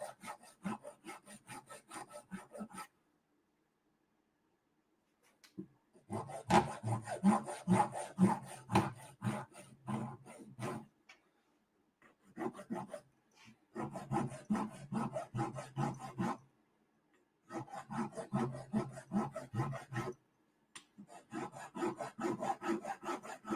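A hand file rasps back and forth across a lightsaber part being sculpted, in bursts of rapid scraping strokes separated by short pauses, close and fairly loud with no talking.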